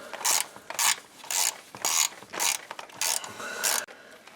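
A ratchet with an 8mm socket tightens the bolts of a Ford F150 4WD hub actuator (IWE), giving about eight rhythmic bursts of sharp, close clicking separated by short pauses.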